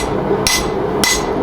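A hammer tapping a part into place while making a spatula, two crisp metallic taps about half a second apart, close and clear over a steady low hum.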